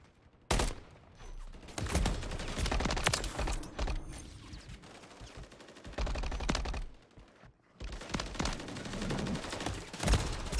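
Call of Duty gunfire in a multiplayer match, with repeated bursts of automatic rifle fire and single sharp shots, loud and close, broken by short pauses.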